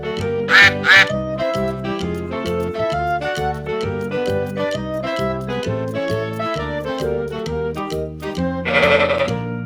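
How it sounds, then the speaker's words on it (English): Duck quacks in a farm-animal sound sequence, heard as a few short, loud calls near the start and again at the end over continuous background music. "Duck."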